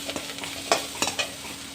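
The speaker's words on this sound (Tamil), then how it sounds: "பெரிய வெங்காயம் கொஞ்சம் சின்னதாக இருந்தால் கட் பண்ணி போட்டு நல்லா போட்டு வதக்கிக்கோங்க" Onions sautéing in a pan for plantain kootu, a low steady sizzle broken by a few quick stirring scrapes and taps from a spoon, close and fairly quiet, no voices.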